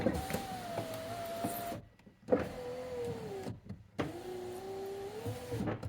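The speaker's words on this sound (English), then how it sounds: "Power windows." A VW New Beetle TDI electric power window motor whirs steadily for a couple of seconds, pauses, then runs again in two more strokes, close and clear.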